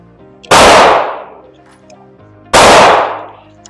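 Two loud, sharp .45 pistol shots fired close by, about two seconds apart, each cracking and then ringing out briefly.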